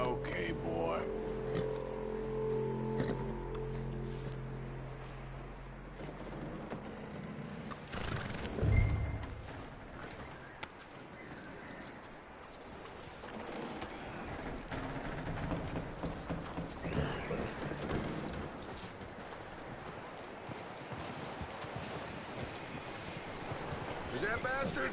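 Horse hooves clip-clop at a steady walking pace through Red Dead Redemption 2 gameplay, with a whinny and rumbling movement near the start, continuing under a voice for most of the stretch.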